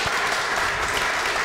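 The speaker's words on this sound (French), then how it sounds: "Merci, on va vous applaudir." Audience applause at a tribute event honouring the late footballer Jean-Pierre Adams, a steady, even wash of clapping from a crowd throughout.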